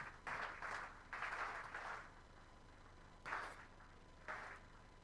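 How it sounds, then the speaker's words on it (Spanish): Applause for Malvinas war veterans at a Patagonian parliamentary session: several short, faint bursts of clapping from a small audience, separated by quiet gaps. "Renovamos el aplauso entonces para ellos."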